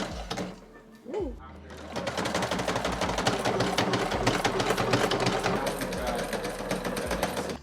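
A sewing machine stitches through Rigoline strap in a fast, steady mechanical chatter that starts after a brief pause and runs loud and close to the end.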